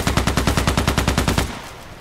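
A Sig Sauer MPX SMG fires in the video game Contract Wars as a loud, rapid burst of evenly spaced shots lasting about one and a half seconds, then fades into a short tail.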